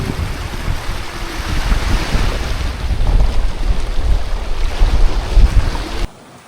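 A sailboat runs under its spinnaker through open-sea waves, with steady rushing water along the hull and strong wind buffeting the microphone. The sound is loud and continuous, then cuts off abruptly near the end.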